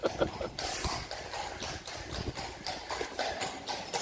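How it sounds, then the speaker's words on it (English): Several horses' hooves clip-clop on a busy street in Bruges, a steady stream of overlapping hoof strikes close by amid crowd noise and occasional talk. "Oh, there's more horses."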